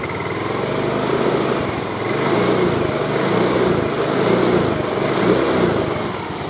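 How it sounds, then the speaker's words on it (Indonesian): Yamaha Mio M3 scooter engine revved up from idle with its headlight on, a steady, loud buzzing drone that swells and holds throughout with no talk over it. "Kita gas sedikit sobat."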